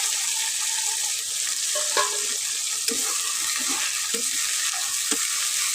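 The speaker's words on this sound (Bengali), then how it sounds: "আমি এখন টমেটো এই ভাজবো," Tomatoes frying in spiced oil in a pan make a steady, close sizzle with light clicks and stirring scrapes scattered throughout, even in level and with no talking.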